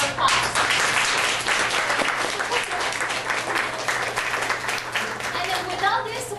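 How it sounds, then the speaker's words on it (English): Loud, sustained applause from a luncheon crowd, dense clapping that holds steady across several seconds with a faint low hum beneath. "So give a round of applause."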